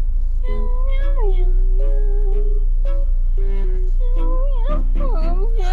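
A cat meows repeatedly and loudly up close, in a string of drawn-out, wavering cries that rise and fall, over a steady low electrical hum.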